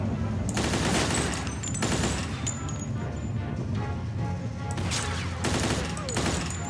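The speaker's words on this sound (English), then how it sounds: "Doing jack shit other than shooting from cover." Sustained bursts of gunfire in a cover-shooting firefight from Mafia II, loud, dense rattling volleys with brief lulls between salvos, continuous throughout.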